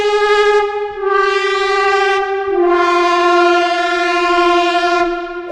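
Bright synth tone with dense stacked harmonics, rapidly fluttered by a very fast LFO, holding steady pitch across two long sustained notes with a brief dip between them; loud and alone.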